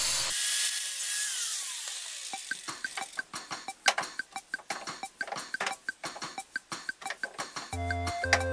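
A stuck rivet head is cut off a race car body panel, a brief high whine followed by a rapid series of sharp metallic taps and scrapes at close range.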